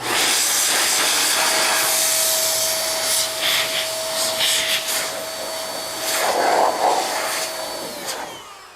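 A blower forces air into the seams and stitching of a car interior to drive out leftover moisture and soap, a loud steady rushing hiss with a whining tone, shifting slightly as the nozzle moves, close by.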